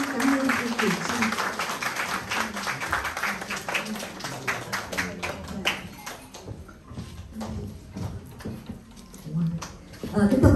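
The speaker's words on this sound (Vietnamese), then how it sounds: "xin được một tràng pháo tay nữa thật lớn" An audience claps at a memoir launch event for actress Kieu Chinh, a bright crackle of many hands that swells and then thins while a voice keeps talking over it near the microphone.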